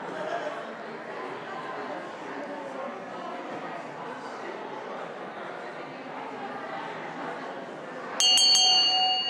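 A bright metallic bell rings out suddenly near the end, loud and close with ringing overtones, after a long stretch of murmuring voices and room chatter.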